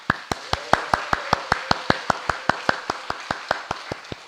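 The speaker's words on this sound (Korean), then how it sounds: "우리 박수로 한번" A church congregation clapping in a steady rhythm for a member's birthday, about twenty crisp, evenly spaced claps, close and clear with no talking.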